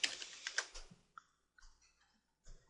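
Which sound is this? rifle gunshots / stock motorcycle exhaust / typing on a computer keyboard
typing on a computer keyboard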